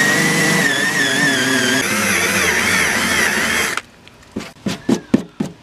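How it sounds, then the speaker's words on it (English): A cordless drill with a failing battery whirs steadily at high speed spinning an eraser wheel to remove adhesive from paint for several seconds, then stops, followed by a few short bursts as it sputters. "the battery on my cordless drill is giving out"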